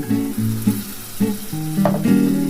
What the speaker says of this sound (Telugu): ముందుగా పేస్ట్ చేసుకున్న టమాటాలని వేసేద్దాం